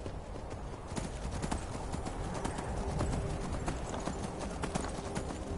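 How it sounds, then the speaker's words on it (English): Horse hooves clip-clop steadily in Skyrim as a mount is ridden, a quick regular beat of sharp hoof strikes over a continuous outdoor ambience, with no talk over it. "let me ride the horse"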